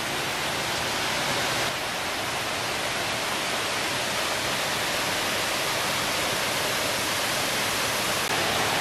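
Two-tiered waterfall near Teresopolis outside Rio de Janeiro, heard as a dense, steady broadband rush of falling water, loud and continuous throughout with no voices over it.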